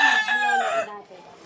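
A Texas breed gamefowl rooster crows once, loud and close, with a drawn-out call that trails off.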